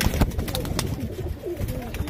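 Pigeons coo softly and repeatedly nearby, with rustling, flapping and a voice occasionally in the background.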